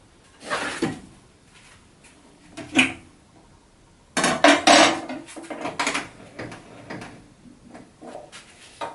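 Metal dado blades for a Bosch GTS1031 table saw are handled and set down in a few separate clanks and rattles, quiet gaps between them, then a busier stretch of clinking and scraping, with no talking.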